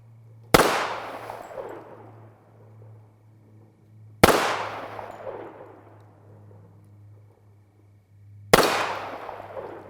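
Three .45 ACP pistol shots fired with handloaded ammunition at a steel target, each a sharp loud crack with a decaying echo, spaced about four seconds apart over a low steady hum.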